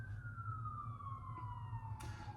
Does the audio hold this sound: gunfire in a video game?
no